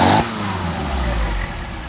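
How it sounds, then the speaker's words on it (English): A Mercedes 190SL engine with Solex carburetors is blipped, a sharp close rev that drops quickly into a loud, steady idle-like rumble. "what we're going to do is rev it up, make sure it doesn't pop"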